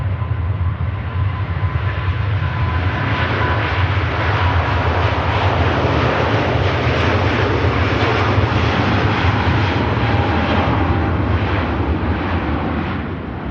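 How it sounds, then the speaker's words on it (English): A jet airliner climbing out after takeoff at Manchester Airport, a loud, steady broadband engine roar that holds close and strong for the whole stretch, with no talk over it. "Another aircraft we can just watch the initial climb out."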